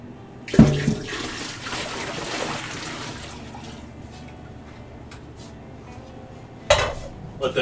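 Water is drained off a pot of boiled potatoes: a metallic clank, then a rushing pour for a few seconds that fades to a soft trickle, and another pot clatter near the end.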